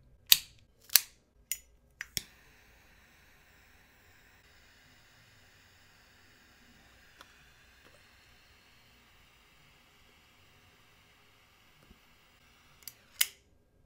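A Henry Clay War Hawk cigar is clipped with a few sharp snips, then a lighter flicks and a soft hiss of flame holds for several seconds before a couple more clicks at the end.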